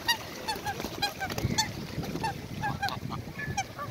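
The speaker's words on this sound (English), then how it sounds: "Oh look, and the geese are coming." Large geese honk repeatedly outdoors at a feeding spot among pigeons and crows, producing short nasal calls in quick irregular bursts. The calls are moderately close, over steady background noise with no voices.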